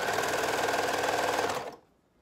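An overlocker serger runs steadily while stitching over a fabric seam on a tee, giving a fast, even mechanical whir up close that stops abruptly near the end.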